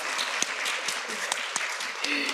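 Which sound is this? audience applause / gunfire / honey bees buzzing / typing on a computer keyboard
audience applause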